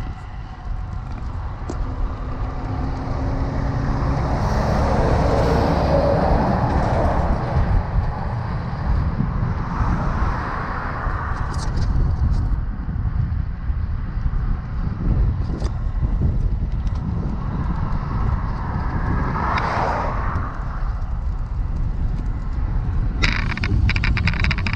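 Steady headwind buffets the microphone on a road bike recovery ride, a continuous loud low roar with gusting swells and faint passing traffic, no speech.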